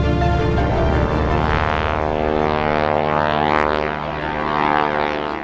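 A T6 trainer aircraft's propeller engine starts up and roars loudly and steadily, its pitch shifting as power builds for take-off, heard close with no voices.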